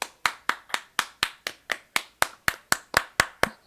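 Slow, evenly spaced handclaps, about four per second, from what sounds like a single person or a small few, close and dry with no talk, given as applause after a peacock imitation.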